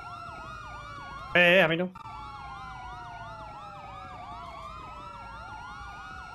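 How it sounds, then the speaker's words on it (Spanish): Police car sirens in GTA V roleplay wail continuously in a fast, repeating rise-and-fall, loud and steady, briefly cut by a short loud burst of a voice speaking. "Necesito que quiten las sirenas de todos los patrullas"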